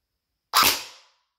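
A Snow Wolf PPSh-41 airsoft gun with electric blowback fires 0.20 gram BBs in one sharp, loud crack that trails off quickly in an otherwise silent space.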